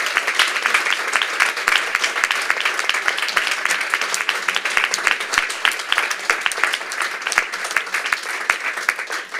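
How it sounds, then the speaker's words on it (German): Conference attendees applaud the translation team, a strong, continuous round of many hands clapping that holds steady throughout. "Alle mal nach hinten winken und klatschen."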